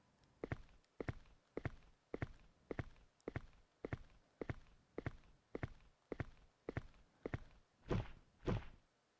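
Footsteps on a hatch in the horror game Alone in the Dark: The New Nightmare, a steady run of about fifteen evenly spaced, close thuds, the last two heavier and more resonant.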